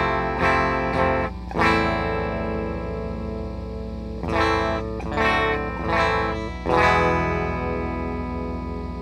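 Guitar amp recording with no attenuator fitted: a loud, distorted electric guitar plays sustained chords and short bursts over a constant hiss of background noise, with no talking.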